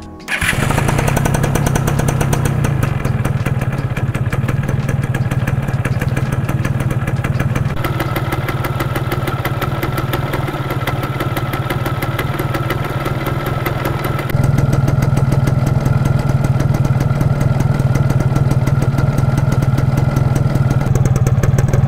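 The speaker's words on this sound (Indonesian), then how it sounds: "tes suaranya sekarang seperti apa. Apakah sama aja dengan yang kemarin, knalpot bedelan dengan knalpot yang standar ini." A Yamaha F1ZR motorcycle from 1999, a two-stroke with a standard exhaust, idles steadily and loudly for the whole stretch, a continuous close buzzing drone that shifts slightly in tone partway through.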